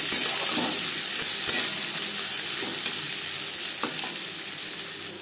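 Chopped onion and garlic fry in hot oil for khichuri, a dense, continuous close-up sizzle with faint stirring scrapes running throughout.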